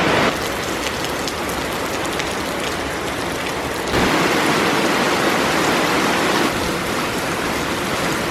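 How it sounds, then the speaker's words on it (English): Steady rain falling outdoors, a dense continuous hiss of drops on surfaces that grows slightly heavier midway, with no voices. "it started raining"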